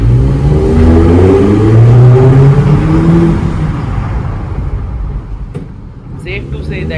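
A Mini Cooper convertible fitted with a K&N reverse conical air filter accelerates close by, its engine rising in pitch through the gears before settling into a lower, steadier drone as the revs fall away.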